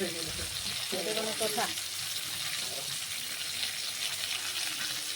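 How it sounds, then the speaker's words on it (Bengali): Potatoes fry with spices in a pan, giving a steady broadband sizzle throughout, with brief voices and utensil sounds early on. "সমস্ত উপকরণ দেখুন আলুর সাথে মিশিয়ে আলু একটু ভেজে নিচ্ছি"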